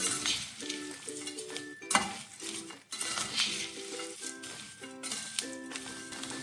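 Avarebele mixture being stirred in a pan, a steady scraping and sizzling with light metallic clinks of a spoon against the pan, close and continuous with no talking.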